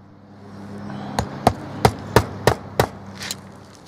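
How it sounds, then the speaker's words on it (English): Nails are hammered into roof shingles with about six sharp, evenly spaced hammer strikes that ring out close and loud over a low background hum. "I put 4 nails per shingle to securely fasten it down."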